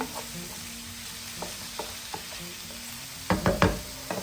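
Hen of the woods mushrooms being folded through hot oil over medium-high heat, a steady low sizzle broken by soft spoon scrapes, with a louder cluster of stirring clatter near the end.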